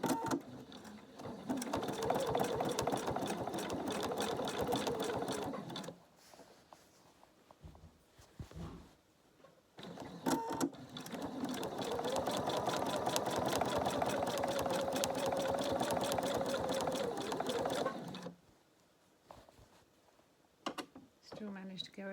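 A sewing machine stitches in two long, steady whirring runs separated by a quiet pause with small handling noises, its motor humming at close range.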